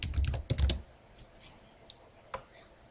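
Quick, light clicks of typing on a computer keyboard: a brief flurry of close keystrokes, then a few scattered taps, fairly quiet.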